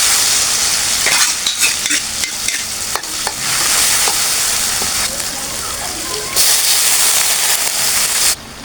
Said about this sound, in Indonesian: Udah panas, kita siap goreng.